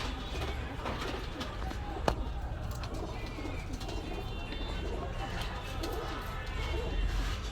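Pakistani high-flying pigeons offered for sale in Khulna, including a Nepalese male, cooing and calling through a steady background of crowd noise and voices, with one sharp knock partway through.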